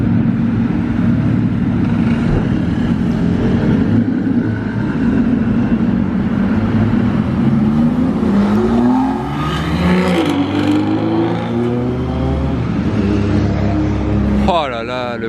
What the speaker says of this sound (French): Voilà, on a eu le droit au start-up, ça y est, du V12.